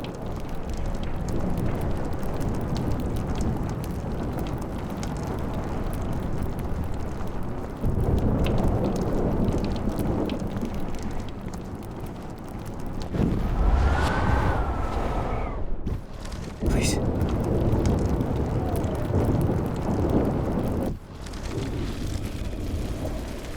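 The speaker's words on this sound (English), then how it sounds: "No more storms." Thunderstorm in Life is Strange, a steady broadband roar of heavy rain and wind filling the whole stretch, with loud rumbling thunder bursts and cracks around the middle and near the end, no voices.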